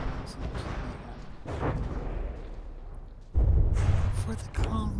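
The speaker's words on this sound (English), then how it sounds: "I just wanted to show you some explosions and something like that." Several booming explosions and bursts of gunfire rumble through a naval video game battle between the battleships Indomitable and New Mexico, with a heavy blast about two-thirds of the way in over steady background noise.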